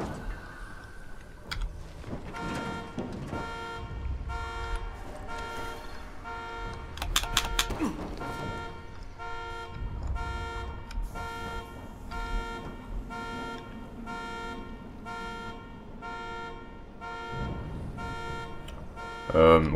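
A car alarm blares in the video game Dying Light, triggered by a white car, with a steady repeating electronic tone running throughout under ongoing game noise and someone talking.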